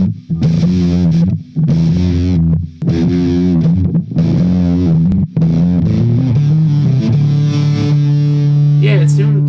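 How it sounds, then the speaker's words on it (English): Electric guitar played through the LePou LeCto high-gain amp simulator plugin, giving a heavily distorted tone. Loud, choppy chugged chords separated by short gaps, then a long sustained ringing note at the end. "it's doing a weird thing with the distortion"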